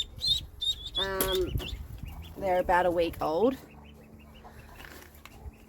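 Week-old grey Cayuga ducklings peep in short, high chirps, close by and clear, mixed in with someone talking and cooing over them before everything quiets to faint background.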